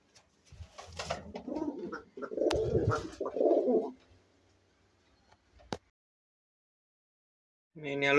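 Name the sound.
pigeons cooing in a coop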